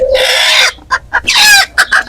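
Sonali breed chickens cluck loudly and close by, with two long drawn-out calls broken by a few short clucks.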